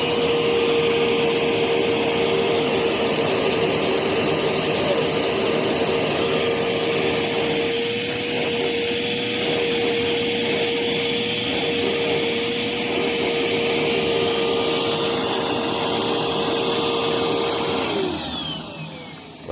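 A Eureka Lightspeed vacuum cleaner runs continuously with a loud, steady motor whine and airy rush, its pitch dipping slightly midway, then the motor spins down near the end.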